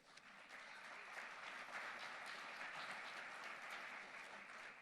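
Steady applause from a crowd at a city State of the City address, dense continuous clapping that holds at an even level for several seconds without pause.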